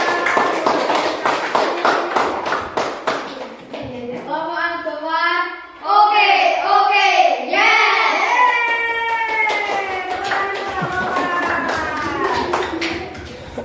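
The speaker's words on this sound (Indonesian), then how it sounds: "tepuk tangan untuk kelompok Al-Ghafar" Children in a classroom clap for a presenting group with quick, rhythmic patting, while a teacher speaks briefly and then children's voices chant along and carry through most of the stretch.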